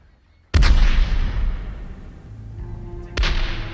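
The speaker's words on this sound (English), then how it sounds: "the citizens of Havana awoke to a cannon shot" A single cannon shot booming at sunrise over Havana harbor for a naval burial at sea, a sharp loud blast rolling into a long fading rumble, followed by a second, more distant report about three seconds later.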